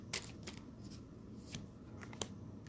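Tarot cards shuffled by hand in a close, quiet room, giving soft riffling and papery snaps at a steady pace with no talk.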